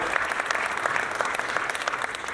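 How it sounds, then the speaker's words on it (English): Audience at a city heritage month celebration in Los Angeles breaking into a round of applause, brisk dense clapping with individual claps standing out, steady and fairly close. "let's give them a round of applause and thank them"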